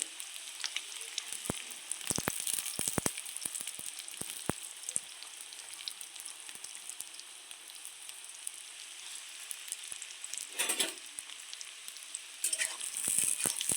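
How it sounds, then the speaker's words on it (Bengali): Onions sizzle steadily in hot oil for chicken biryani, a continuous close crackling hiss with scattered pops and a brief louder burst near the end. "আমার তেলটা গরম হয়ে গেছে, এবার তেলের মধ্যে আমি পেঁয়াজটা দিয়ে দেবো।"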